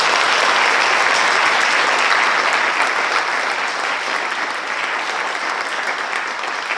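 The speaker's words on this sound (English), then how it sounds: "I would like to have a round of applause for all performers today." A large audience applauds performers at an art lecture event, dense sustained clapping that stays loud and steady throughout before easing slightly near the end.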